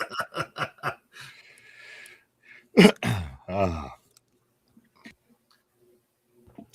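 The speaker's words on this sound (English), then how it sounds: "Sorry, I needed to clear my throat." A man clears his throat once, sharply and close to the microphone, amid short bursts of murmuring and chuckling, then near silence with a few faint clicks.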